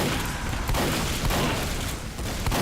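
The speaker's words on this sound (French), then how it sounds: "Bon, ça, c'est un fusil à pompe." Shotgun blasts and surrounding gunfire in the video game Team Fortress 2, a dense, continuous barrage of loud shots with no clear gaps between them.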